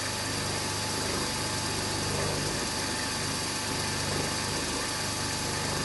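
A mini lathe spins at 1500 RPM while cutting metal, a steady mechanical hum with a constant whirring drone, broadband and unchanging throughout.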